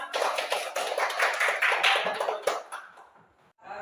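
Students in an Indonesian school classroom clap together, a close burst of quick, uneven hand claps that tapers off and stops near the end.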